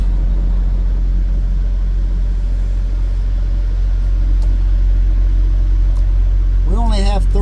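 A truck idles and creeps forward to pull up closer to a trailer, a loud low engine rumble filling the cab steadily, with a brief wavering whine near the end.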